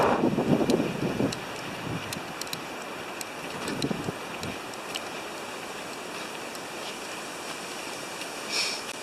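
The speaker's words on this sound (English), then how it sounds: "The wind is howling down it." Gusting wind buffets the microphone at an exposed lakeside campsite, a steady broadband rush with louder gusts near the start and around the four-second mark, continuous throughout with no talk.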